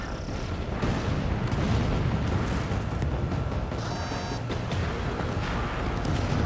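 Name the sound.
missile launch and explosions in Ace Combat 7 video game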